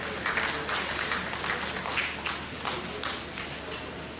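Conference audience applauding the chair of the local organizing committee: dense, sustained clapping from a large hall crowd, steady and moderately loud for several seconds with some crowd murmur underneath.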